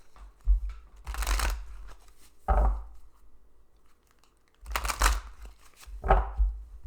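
A deck of cards being shuffled in several quick, crisp riffling bursts separated by short pauses, close and moderately loud with no talking.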